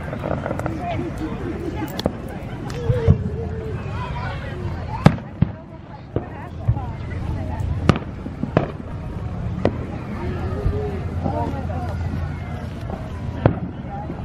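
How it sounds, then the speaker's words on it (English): Fireworks on the Fourth of July about a mile away by a lake, a string of faint distant pops and bangs at irregular intervals under ongoing talk. "Fireworks get shot off way down there, like I said, about a mile away."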